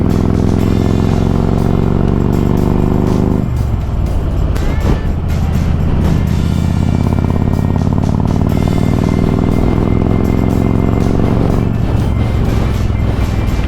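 Harley-Davidson motorcycle riding a curvy scenic road, its engine rumbling loud and steady from up close, shifting down around three seconds, with wind buffeting throughout and no talk.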